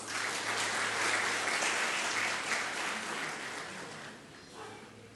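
Audience applause for tourism officials at a Gujarat tourism meet, a steady dense clapping from a seated crowd that holds for several seconds and then slowly thins and fades.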